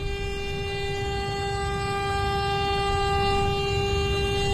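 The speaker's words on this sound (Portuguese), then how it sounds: "Buzinando para o cara da frente" A loud, sustained truck horn blares continuously over a rumbling engine, a long steady honk close by on the road.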